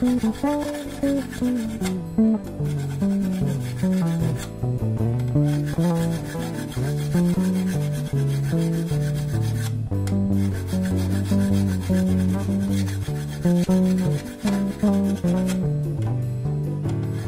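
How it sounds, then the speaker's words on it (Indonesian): Rhythmic, close rasping of a fine crowning file worked back and forth over the fret wire of a Fender Stratocaster Custom Shop '56 guitar, repeated strokes continuing steadily with brief pauses. "Ini gue masih pakai crowning file, tapi ini crowning filenya lebih halus guys"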